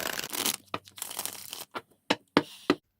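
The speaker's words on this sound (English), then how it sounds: "I'm just going to shuffle until I feel like I've done enough shuffling" A deck of cards being shuffled, with bursts of riffling and crisp snapping flicks, close and fairly loud, slowing into separate taps toward the end.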